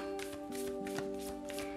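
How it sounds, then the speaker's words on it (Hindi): Starseed oracle deck cards being shuffled by hand, a run of soft papery riffles and taps repeating at a steady pace over a faint constant background hum. "मैं शफल कर लेती हूँ कार्ड्स को"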